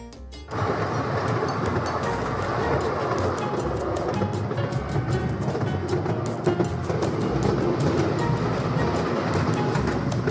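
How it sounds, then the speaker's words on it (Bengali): The Kalka–Shimla mountain toy train, the Himdarshan Express, rumbles steadily along, with continuous loud clattering and rattling of the cars, close by and unbroken throughout. "তো বন্ধুরা দেখো, তোমাদের সঙ্গে একটু ট্রেন জার্নিটা শেয়ার করলাম।"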